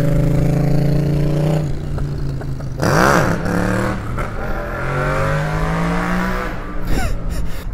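A motorcycle engine revs hard in repeated rising and falling surges as the rider attempts a wheelie, loud and close, with no speech.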